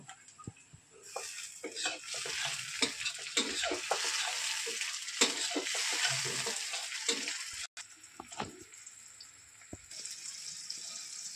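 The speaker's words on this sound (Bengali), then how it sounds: "পেঁয়াজটা ভাজা মতো হয়ে এসছে, এবার টমেটো দিয়ে দেবো" Chopped tomatoes tipped into onions frying in a pan, giving a steady sizzle with scattered clicks and scrapes from a stirring spoon. The sound stays fairly close throughout.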